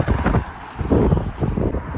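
Strong wind roaring across the microphone while cycling downhill on a long-distance bike tour in Turkey, a loud continuous buffeting rush with no speech.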